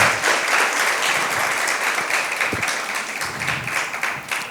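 A church congregation claps loudly and steadily, a dense sustained wash of many hands filling the room for several seconds, with a faint voice underneath.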